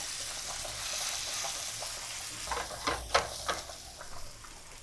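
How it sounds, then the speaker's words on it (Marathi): Pomfret fish frying in oil after being flipped to its second side, a soft continuous sizzle that grows busier toward the end with a few spatters and light utensil clinks. "आता उलट करते दुसऱ्या बाजूने आपण तळून घेऊया"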